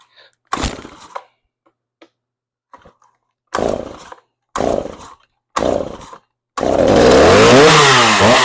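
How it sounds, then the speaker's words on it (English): A chainsaw set on choke gets several sharp pull-start attempts, each a short sputtering burst, before it fires and runs loudly with revving engine roar. "Well, it sounds really good. That's a nice, powerful saw."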